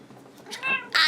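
A house cat meows twice in a small room, a short mew followed by a louder, rising cry that ends the sound, fairly close and alone with no talking.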